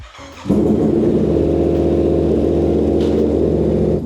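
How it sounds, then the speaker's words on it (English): A Yamaha R7 motorcycle engine starts at idle close by, a steady low rumble with rapid even pulses that holds level for several seconds with no talk. "with the bike running, check how the clutch is engaging"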